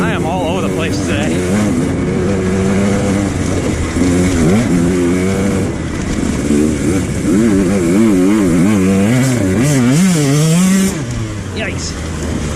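A dirt bike on a hard enduro ride through the woods revs and bogs, its engine note rising and falling loudly and close up, with a rider's voice over it.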